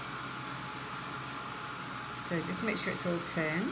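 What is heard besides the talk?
heat gun blowing hot air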